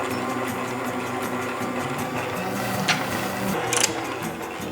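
An electric stand mixer whirs steadily through molasses ginger cake batter for mini Bundt cakes, a constant close motor drone with gear-like clatter and a couple of brief scraping clicks, no voices over it.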